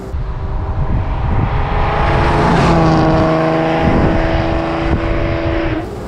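A 1939 BMW 327/28 Sport-Kabriolett with a six-cylinder engine, kept in excellent condition, cruises along with a loud, continuous engine drone whose pitch shifts slightly as it runs.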